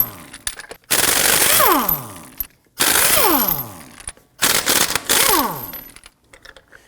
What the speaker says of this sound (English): Using a 19mm socket, we're going to loosen and remove our lug nuts.